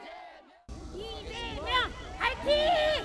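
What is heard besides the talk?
crowd of supporters cheering and clapping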